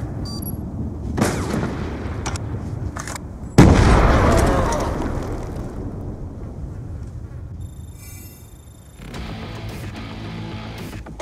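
Black Ops 2 multiplayer combat: a deep grenade blast booms loudly and rumbles away, with scattered gunshots before and after and a burst of game effects near the end.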